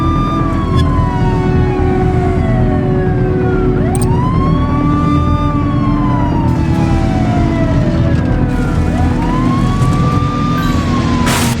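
A wailing police siren from The Precinct during a pursuit, loud and close, rising and falling in long sweeps over a steady engine and road rumble.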